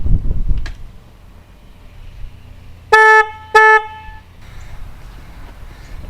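A car's stock factory horn, before an air horn upgrade, gives two short loud honks in quick succession inside a garage, with quiet wind and handling noise around them.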